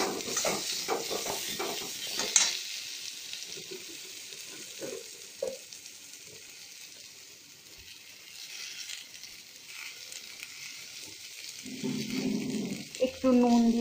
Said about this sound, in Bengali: তারপরে একটু তেল দিয়ে আলুটা ছেড়ে দিয়েছি।